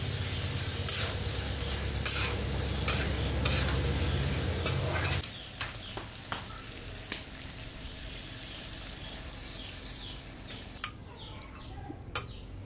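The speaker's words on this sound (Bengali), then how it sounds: "বাটা মশলাটা এবার দিয়ে দেব। দিয়ে হালকা নেড়ে এবার মাংসতে জল দিয়ে দেব।" Ground spice paste being stirred into mutton in a pan for a mutton and potato curry, a steady sizzle with repeated scraping strokes that drops off halfway, followed by quieter intermittent stirring clicks.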